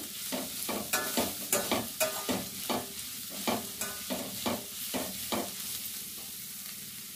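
Boiled sweet corn kernels frying in a pan, with a steady sizzle broken by about a dozen sharp scraping strokes of a spoon as the corn is stirred, close and moderately loud.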